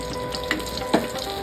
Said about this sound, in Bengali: বেগুন ভাজা হচ্ছে, লাস্ট দুটো বাকি